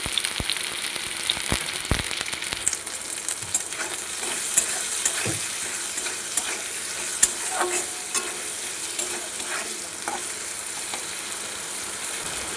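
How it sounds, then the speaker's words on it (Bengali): Bitter gourd pieces fry with salt and turmeric in a pan, a steady close hiss of oil broken by sharp scraping and tapping strokes of a stirring spoon, with no talking. "এইভাবে কিছুক্ষণ উচ্ছেটা ভাজা ভাজা করে নেব"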